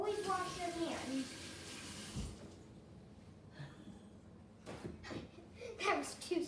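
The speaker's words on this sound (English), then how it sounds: "I'm gonna go wash my hands off real quick" Hands are washed under a running kitchen tap while biscuits are being made. The tap gives a quiet splashing rush that stops about halfway through, followed by a few faint handling clatters.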